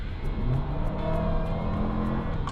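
A Kia Sorento X-Pro's engine revving steadily while the SUV is being driven, a continuous close drone that climbs in pitch under constant road and cabin noise, with no voices.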